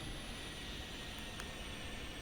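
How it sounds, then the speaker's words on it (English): Steady, faint hum and whine of the engine running on a Thranda PC-6 aircraft in X-Plane 11, a constant broadband drone with a thin high tone and no change throughout. "Your engines are still running."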